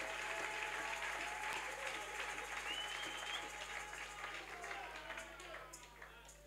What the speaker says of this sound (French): Applaudissez un peu très fort.